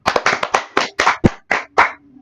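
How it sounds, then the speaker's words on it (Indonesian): A few people clapping for a student group in a classroom, about ten distinct, sharp claps in an uneven rhythm, close and fairly loud, fading out at the end. "kita beri tepuk tangan untuk kelompok 2"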